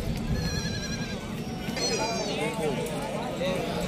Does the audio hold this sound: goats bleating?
yes